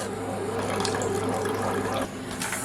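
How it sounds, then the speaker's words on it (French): Water pours steadily into a container for a chocolate sauce, a close, continuous splashing trickle lasting a few seconds with no talk over it. "Et on va mettre 50 g d'eau."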